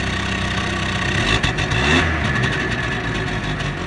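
A 2008 Daewoo Lanos 1.5 engine revs loudly up from idle and settles back, heard close with a strong low rumble throughout and no talking.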